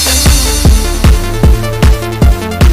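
A drum and bass beat hits loud and close, punchy kicks and snares landing in a fast, regular pattern with claps and a crash on top, with no talking.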